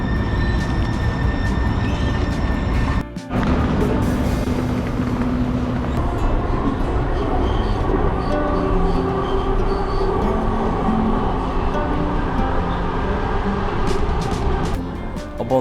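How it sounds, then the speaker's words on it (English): A steady rumble of a moving train fills the cabin in Seattle, with rattling and rolling noise throughout and a brief clunk early on. "I took the train to my friend's house."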